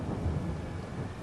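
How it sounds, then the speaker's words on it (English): Rain in the Farming Simulator 22 video game on a Texas farm map, a steady low rumbling wash of downpour with a thunder-like roll, continuous and fairly loud with no talking. "This rain might just wash some of that off."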